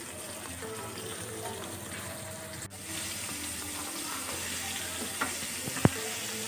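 Brinjal (eggplant) pieces frying in a pan, a steady close sizzle with a slight shift partway through and a sharp clink near the end, no talk.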